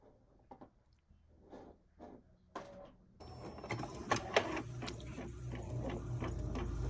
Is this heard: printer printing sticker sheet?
yes